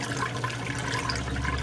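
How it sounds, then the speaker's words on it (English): A Haier HLP23E portable washing machine drains water through its pump, giving a continuous low hum with gurgling, rushing water, close and steady for a brief moment. "the water has just about finished draining out. And you can hear the pump still working"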